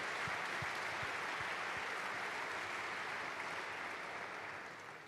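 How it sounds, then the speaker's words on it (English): A conference audience gives faint, distant applause for government officials and partners, a steady hiss of clapping that softens toward the end. "a big round of applause for the government officials and partners that we've been having"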